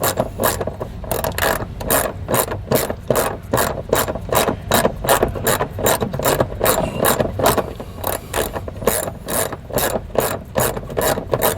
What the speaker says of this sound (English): With my 10mm, I'll go ahead and loosen this up.